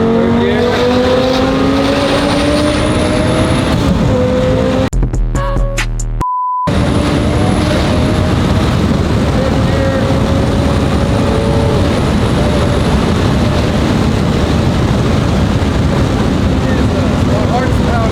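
A car engine runs steadily throughout, its pitch rising and falling in sweeps as the driver shifts through the gears of a freshly broken-in gearbox, with a brief cutout partway through.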